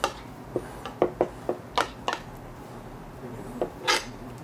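Pots and pans clank and knock in a kitchen as a pan is brought over and set down, a series of sharp metallic hits and scrapes spaced irregularly, close and fairly loud.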